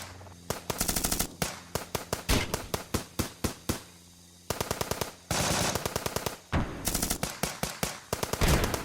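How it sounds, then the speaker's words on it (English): Rapid bursts of automatic gunfire, loud and close, firing in short volleys with brief pauses, then a longer sustained stream of shots. "In one last protest, they exchange gunfire with the Americans."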